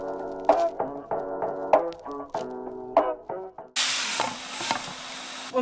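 Vegetables for a beef stir fry hit hot oil all at once, and a loud, steady sizzle bursts in after a stretch of tonal music and continues to the end.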